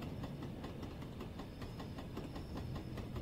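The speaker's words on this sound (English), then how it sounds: "Oh, freight train." A freight train passes on a snowy Peak Forest route in Train Sim World 4. Its engine drones under a regular rhythm of wheel clicks and clacks at fairly close range, with no speech.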